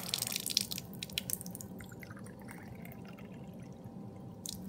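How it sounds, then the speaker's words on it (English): Tap water pours from a faucet in a chemistry lab, making a soft, steady trickle and splash that is fairly quiet and continuous, with a few brief clinks near the start. "We're going to be using some water from the tap."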